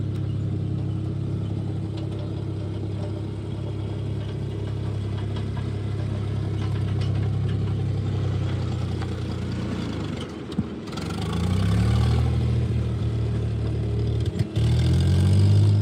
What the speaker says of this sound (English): You can hear that Massey Ferguson just kind of clunking out.